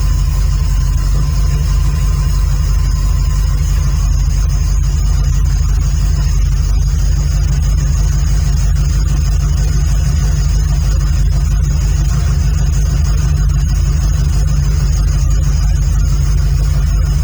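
A Pontiac Trans Am engine runs continuously at a loud, steady idle with a deep low rumble and no talking, holding an even tone for the whole stretch.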